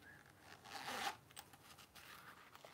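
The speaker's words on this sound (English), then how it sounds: "It's got a zipper pocket," A zipper pocket on a handmade leather wallet is pulled open in one quick, quiet rasp that rises and fades within half a second, followed by faint rustling.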